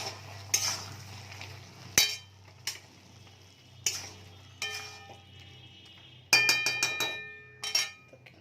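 A spoon scrapes and clinks against a pan while okra and potato curry is mixed, giving a few separate metallic knocks and taps, some ringing briefly, with short pauses between strokes and a faint low hum underneath.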